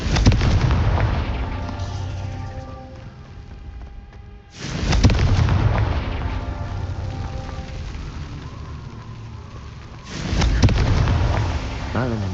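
Confringo fire spell explosions in Hogwarts Legacy: heavy, booming blasts with rumbling tails, one at the start, a second strong burst about four seconds later and a third near the end, each decaying slowly.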